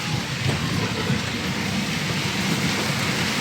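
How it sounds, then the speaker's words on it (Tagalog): Heavy rain pours steadily, a dense continuous hiss of water hitting surfaces, loud and unbroken throughout with no voices. "Lakas na ulan."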